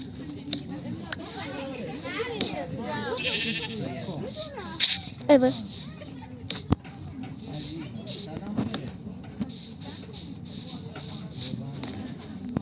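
Sheep bleat in a short burst near the middle, set against steady outdoor background noise while people talk.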